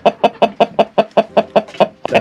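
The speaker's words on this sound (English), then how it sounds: "See this rooster right here, guys?" A rooster clucks close and loud in a steady run of about a dozen evenly spaced, sharp clucks, with no other sounds between them.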